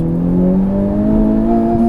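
Front-wheel-drive 2021 Honda Civic Type R Limited Edition on wide front tires pulling hard in first gear, steady loud engine drone with rising harmonics as the wheels spin, close and continuous with no talk.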